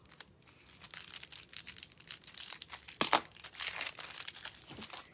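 Paper for a decoupage flower project being cut and handled, with continuous close crinkling and rustling, bursts of snipping and crumpling, fairly quiet with no talk.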